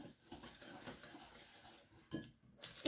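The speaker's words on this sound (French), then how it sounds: "On mélange." Brownie batter of melted butter and brown sugar mixed in a bowl, soft scraping and light utensil clinks against the bowl, quiet and close with a couple of sharper taps near the end.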